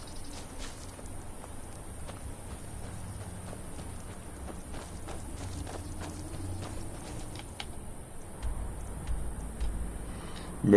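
Horse hooves clip-clopping at a steady walk in the Skyrim video game, a soft continuous patter of footfalls under a low ambient wash, moderately quiet and without speech.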